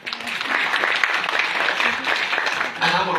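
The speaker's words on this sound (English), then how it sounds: "Clap for yourself." Audience at a Kenyan public-private partnership symposium applauding, a dense, continuous clatter of many hands clapping at moderate distance, holding steady for a few seconds and briefly swelling near the end.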